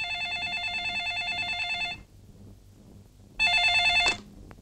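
A telephone rings in two bursts of electronic trilling, a steady ring lasting about two seconds, a pause with low background sound, then a second ring cut off abruptly, fairly loud and close.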